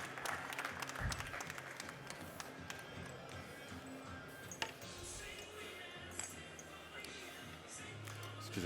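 An audience applauds for a competitor at a 2016 French barista championship final, with a steady wash of many hands clapping at a distance that continues throughout, plus a few sharper nearby claps and some faint voices underneath.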